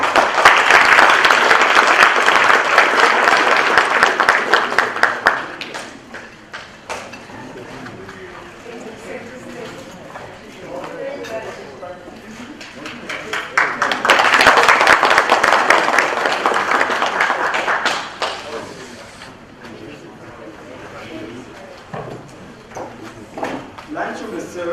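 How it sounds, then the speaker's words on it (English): A luncheon audience applauds in two bursts, with steady clapping from a roomful of people at the start, a quieter stretch with voices, then a second swell of applause that fades again. "Could you give her a round of applause?"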